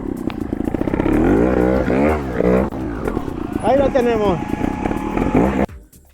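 A trial motorcycle revs while turning through deep, soft sand, its engine swelling and dropping in repeated rising and falling surges. Someone talks over it, and the engine cuts to near silence at the end.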